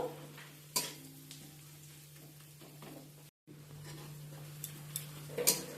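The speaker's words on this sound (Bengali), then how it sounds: "এই সময় দিয়ে দেব এক চামচ চালমগজ আর চার পাঁচটা কাজু পেঁয়াজের সাথে সব কিছু আমি একসাথে ভেজে নেব" Onions frying in oil with cashews and melon seeds, a quiet steady sizzle with occasional stirring clinks and scrapes against the pan, close by.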